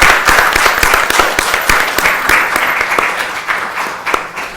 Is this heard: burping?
no